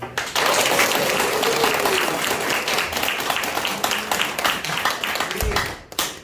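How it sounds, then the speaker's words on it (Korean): Audience applause fills a lecture hall at a special talk for care-worker trainees, steady dense clapping lasting several seconds before tapering off near the end. "여러분 박수로 모실까요?"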